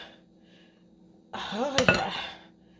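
A scoop of chocolate mousse lands in a small Dollar Tree ramekin with a brief soft clatter of spoon against dish, a short close burst after a quiet pause.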